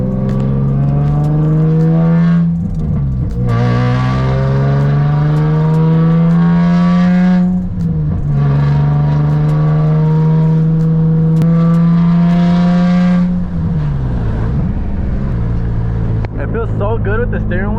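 A straight-piped Nissan 350Z drones loudly from inside the cabin while driving, its exhaust holding a steady raspy tone that dips and climbs again with each gear change, with a voice talking over it.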